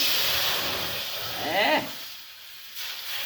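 Water poured into hot roasted semolina (rava) in a pan gives a steady steamy hiss with a brief louder sizzling burst, then settles quietly.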